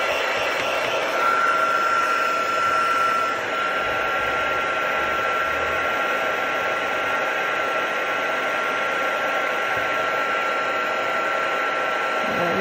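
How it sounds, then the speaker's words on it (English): Heat gun blows a steady, loud, whining airflow while melting gold embossing powder on a stamped card, with a constant hiss and a thin high tone running unbroken throughout. "Okay, so I just grabbed my heat gun."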